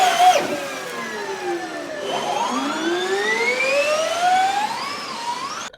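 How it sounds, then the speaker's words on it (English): Formula E electric race cars whining past, rising and falling high-pitched electric motor tones sweeping up in pitch as cars accelerate, loud and continuous with overlapping passes. "the sound of the Formula E cars"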